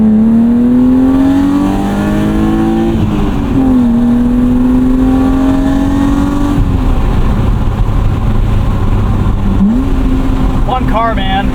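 A 1998 BMW M3 E36 with true dual exhaust and 250,000 miles revs up and down repeatedly with a deep, throaty exhaust note, loud and close, pitch climbing and dropping between throttle blips.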